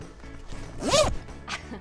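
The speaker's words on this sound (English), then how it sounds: "if you want to look at the zipper, like, it's a really nice zipper" A Topo packing cube zipper is pulled close to the microphone, one quick rasping zip followed by a shorter second pull, crisp and alone.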